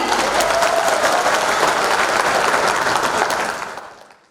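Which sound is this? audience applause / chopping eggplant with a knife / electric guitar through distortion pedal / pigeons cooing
audience applause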